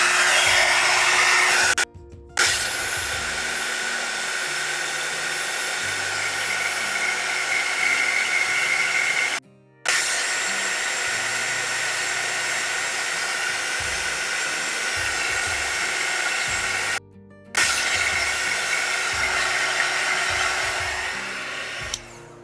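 A heating tool blows hot air in a steady, loud whooshing drone, switched off briefly three times before resuming at the same level.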